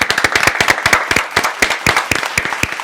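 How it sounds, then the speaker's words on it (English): A small studio audience claps for a guest arriving on a self-love and self-care podcast, a close, dense burst of sharp hand claps with a steady, lively rhythm and no talk over it. "Let's go ahead and clap it up for the one and only Jessica."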